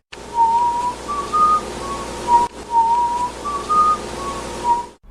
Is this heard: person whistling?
yes